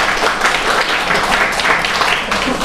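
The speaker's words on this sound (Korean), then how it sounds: "우리 하나님께 감사와 영광의 박수하겠습니다." A church congregation claps at a Korean worship service marking the church's third anniversary, producing a dense, lively wash of applause that stays loud and steady throughout.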